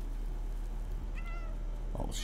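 A cat meows once in the video game Stray, a short clear call rising over a constant low game hum, with a brief rustle just before.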